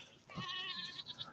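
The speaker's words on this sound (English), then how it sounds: "there's my goats over there" Goats bleat from a short distance on a farm, a couple of wavering, nasal calls overlapping briefly, fairly faint but clear with no talking.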